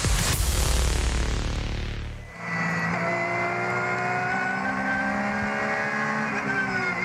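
A Porsche race car at the Nürburgring roars past up close, then climbs the hill out of Breitscheid with a loud, steady high-revving engine note that holds on as it pulls away.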